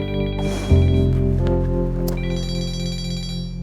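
A phone rings steadily with a tonal electronic ringtone, sustained and fairly loud, with no voices over it.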